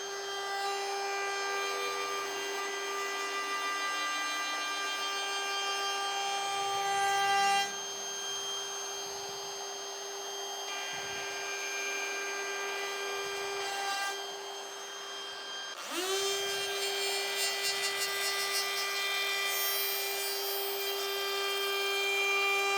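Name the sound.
router cutting a wooden board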